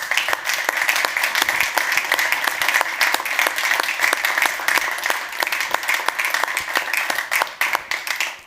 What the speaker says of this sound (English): So a round of applause for the entire Blockball team.